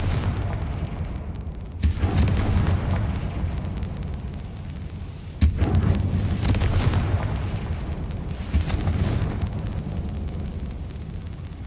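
A Confringo fire spell blasting in Hogwarts Legacy, heard as loud booming explosions with sharp bursts near two and five seconds over a dense, continuous rumbling game soundscape.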